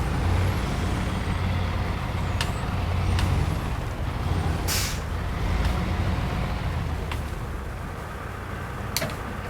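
A truck's air brake hisses in a Snowrunner game as the handbrake is set, with sharp pneumatic bursts over a steady engine rumble and no talking.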